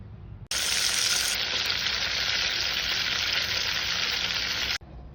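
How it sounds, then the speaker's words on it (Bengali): A blended masala of tomato, nuts and sour yogurt fries in a pan with a loud, steady sizzle that starts abruptly, holds evenly for about four seconds, then cuts off. "ভালোভাবে বেজে নেব এখন"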